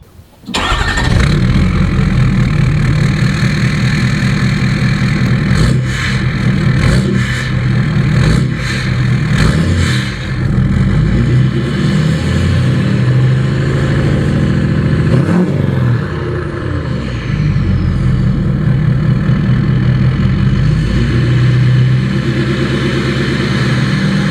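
A Ford F250 Powerstroke diesel truck fitted with a 5-inch exhaust starts up loudly outdoors at a farm, then settles into a deep, rumbling idle with a few throttle blips, heard close and alone.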